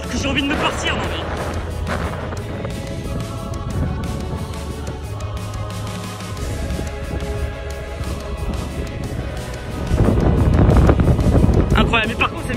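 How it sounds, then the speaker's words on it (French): Strong wind roars steadily at a new wind farm at Nueil-sous-Faye, loud microphone buffeting throughout and growing heavier near the end, with a person talking over it. "mais par contre c'est méga venteux hein"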